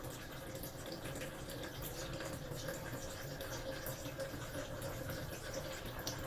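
Water pours steadily and continuously into a bottle, a constant rushing, gurgling stream at moderate level with no talk over it.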